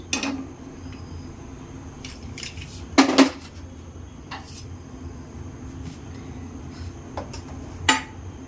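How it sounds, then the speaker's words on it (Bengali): A pressure cooker set down on a gas stove for boiling mangoes: a loud metallic clatter and clunk, a few lighter knocks after it, and another clank near the end over a quiet room hum. "এখন আমি গ্যাসের মধ্যে কুকারটা বসিয়ে দিচ্ছি।"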